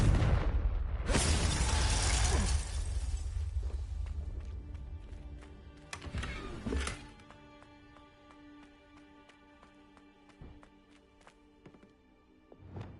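Confringo spell blasts in Hogwarts Legacy: a big, loud explosive burst opens the clip, and a second sharp blast follows a few seconds later. Game sounds then fade into lighter debris and ringing effects.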